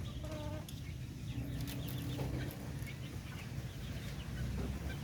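Darag native chickens cluck and call close by, with short repeated clucks and a brief crowing note standing out over a rumbling outdoor background.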